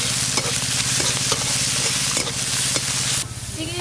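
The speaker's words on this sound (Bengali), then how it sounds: "এবার চিংড়ি মাছগুলো ভালো করে ভেজে নেব" Prawns frying in hot mustard oil with turmeric and salt, a loud steady sizzle with repeated stirring scrapes and clinks running throughout, the hiss easing slightly near the end.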